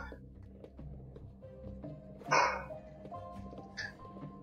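A household dog barks after a neighbor: one loud bark in the middle and a fainter yip shortly after, set against quiet background tones.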